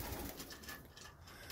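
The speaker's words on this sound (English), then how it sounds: "These are some pretty good homing pigeons right here." Belgian homing pigeons coo softly inside a loft, with low, muffled throaty calls over a faint background hum.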